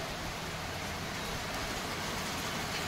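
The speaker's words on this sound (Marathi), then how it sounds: "पाऊस आलेला आहे" Rain falls steadily near Juhu beach in a soft, even hiss of broadband patter, moderately loud and continuous, with a brief bump at the very end.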